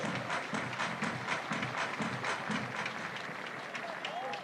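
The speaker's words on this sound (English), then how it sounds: "Everybody clap your hands." Crowd at a college softball game clapping in a steady, sustained patter throughout, with continuous broadband applause-like texture and talk faintly mixed in.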